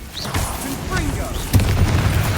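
Confringo fire spell bursting in Hogwarts Legacy, a booming explosive impact landing around the midpoint amid ongoing game noise, with a spoken voice and effect chirps nearby.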